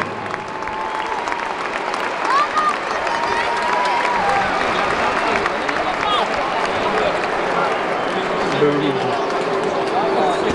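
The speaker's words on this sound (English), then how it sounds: "please give a big round of applause to the FA Cup" Big stadium crowd at Old Trafford applauding the FA Cup finalists, a dense continuous wash of clapping and cheering filling the whole stretch, with a public-address voice and crowd noise mixed in.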